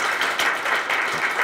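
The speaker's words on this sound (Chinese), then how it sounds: "在场掌声鼓励给我们两位贵宾" Audience applause for two guests at a 2017 Taiwan Internet Governance Forum panel: steady, dense clapping from a seated crowd, fairly close and even throughout with no break.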